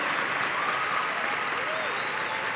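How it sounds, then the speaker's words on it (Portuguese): Sustained applause from an audience at a Brazilian history lecture for Enem exam preparation, a dense steady wash of clapping that holds at an even level from start to finish with no speech over it. "E pessoal, para vocês também aplausos, tá?"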